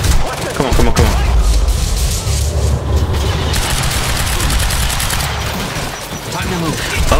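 Loud, close gunfire in the game Quantum Break, sustained volleys of shots that run almost unbroken over a churning background, with some muffled voice sounds mixed in.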